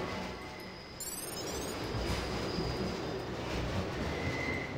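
A train in the Deus Ex video game rumbles steadily through a tunnel, a broad continuous roar with faint metallic whines, holding at an even loudness without any talk.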